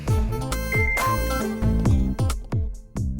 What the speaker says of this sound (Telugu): ఈ టైంలో ఫోన్ ఎవర్రా?